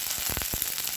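Oil heats in a cooking pan and sizzles softly and steadily, with a few brief stirring or crackling bursts in the middle.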